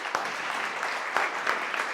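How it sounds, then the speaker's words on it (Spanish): Audience at a WordCamp WordPress conference gives a brief burst of steady applause, with a few louder individual claps standing out. "vamos a recibirle con un fuerte aplauso a Ana Cirujano."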